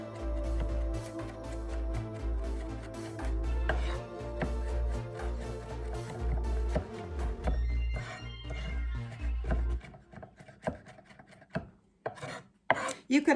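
Garlic chopped finely for meatloaf produces rapid, steady knife taps on a cutting board, close and crisp, slowing into scattered scraping chops toward the end.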